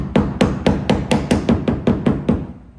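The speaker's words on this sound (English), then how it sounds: "Make sure you use a rubber hammer" A rubber hammer taps a 1970 Chevelle eleven times in an even rhythm, each blow a dull, close thud with a short ring.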